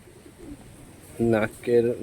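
Two loud cooing calls from a four-year-old male Madras long-distance flying pigeon in its loft, each a short burst arriving in the second half after a quiet start.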